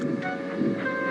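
An animated steam engine backing down onto its train gives a steady low mechanical rumble with a sustained hissing tone over it, moderately loud and continuous for about a second, with no talk.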